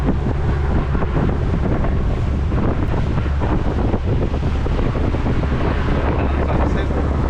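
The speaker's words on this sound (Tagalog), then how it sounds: "Lakas ang hangin dito" Strong wind roars steadily over the microphone on a boat at sea, a constant loud rush mixed with wave noise and the hull moving through choppy water.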